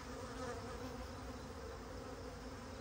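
Dense, continuous buzzing of many honey bees swarming close by while packaged bees are installed in a new hive, steady and unbroken with no voices.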